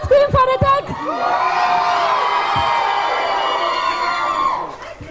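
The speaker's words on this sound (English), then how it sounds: "Can we hear a loud scream for Hrithik?" A large crowd at a Krrish 3 success meet in Chennai screams and cheers loudly for Hrithik Roshan in one sustained roar lasting several seconds. Brief shouts come before it, and it fades at the end.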